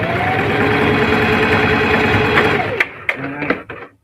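A sewing machine running fast to stitch necktie fabric flat, a close, loud, rapid chattering whir that stops abruptly, followed by a few handling clicks.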